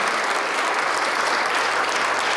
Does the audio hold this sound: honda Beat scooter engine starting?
no